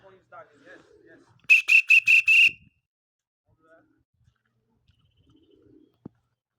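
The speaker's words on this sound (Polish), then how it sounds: "Schodzą kolejne gołębie." A short run of four or five bright, evenly spaced whistling tones, clear and fairly close, then near silence with a few faint distant bird sounds, as racing pigeons land back at the loft after a 200 km competition flight.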